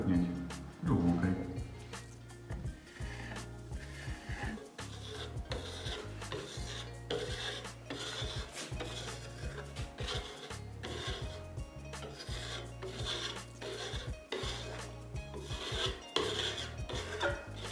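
A trowel compacting decorative Marseille wax plaster, giving repeated scraping, rasping strokes at close range in an uneven rhythm, with a voice speaking over parts of it.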